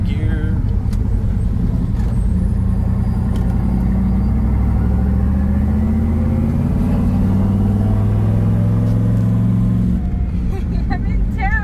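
A 1969 Camaro with a turbocharged LS engine and six-speed manual pulls in second gear on the freeway, a loud droning engine tone rising steadily in pitch under continuous cabin noise.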